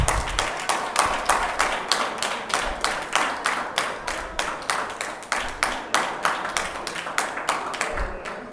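Several people in a council chamber clap in a slow, steady rhythm, roughly three crisp claps per second, close and fairly loud, continuing without a break with no talk over them.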